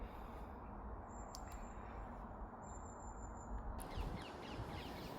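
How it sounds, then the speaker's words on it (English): Faint harsh parakeet calls sound at a distance over a steady outdoor background hum on an allotment, a few squawks spread across the stretch. "it's parakeets actually"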